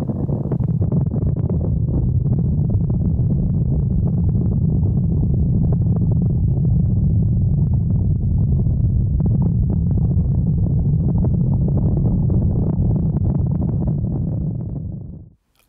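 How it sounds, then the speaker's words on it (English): Synthesized low rumble standing in for stomping hooves or an earthquake: a loud, dense, continuous roar with rapid irregular thuds running steadily throughout, cutting off abruptly at the end. "Hooves stomping or earthquake synthesized"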